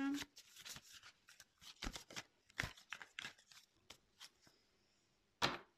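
Tarot cards being shuffled by hand in a run of crisp riffling bursts and soft slaps, close and fairly quiet, ending with one sharp louder shuffle.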